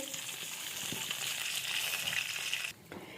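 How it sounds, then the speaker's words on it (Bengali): Mustard seeds and washed curry leaves crackle in oil in a pan, a dense close sizzle with fine popping that cuts off sharply near the end, no voices. "ঠান্ডা তেলে হ্যাঁ বড্ড ফাটে বড্ড ফাটে তো সেই জন্য ফুটুস ফাটুস করে"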